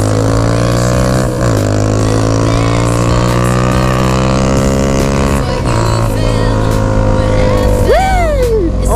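Loud Honda CG160 Fan motorcycle with a bare Yamaha XJ6 exhaust pipe rumbling and revving nearby, its pitch shifting up and down as the throttle changes, with a sharp rev near the end.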